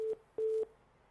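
A telephone line tone follows a dropped caller on a live TV phone-in show: two steady electronic beeps, the second longer, then quiet line hiss, with no voices.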